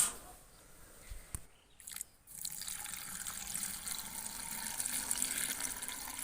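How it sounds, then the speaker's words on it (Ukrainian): Water runs steadily into a three-litre glass jar of fruit compote, a continuous hissing, splashing flow that picks up after a brief pause and keeps going, fairly close. "баночки заливаємо або кип'яченою водою, або ж холодною водою"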